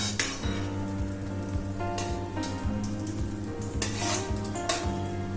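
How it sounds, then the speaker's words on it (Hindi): Cashews and chopped almonds fry in hot ghee over low heat for panjiri, giving a steady, close crackling sizzle with a few soft stirring knocks over a tonal background, no voices present. "अब हम इसमें थोड़े से काजू ऐड करेंगे और थोड़े से कटे हुए बादाम ऐड करेंगे और इन दोनों को धीमी आंच पर अच्छे से फ्राई कर लेंगे"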